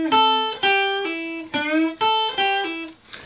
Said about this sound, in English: So I'm going to do this bend, a half step bend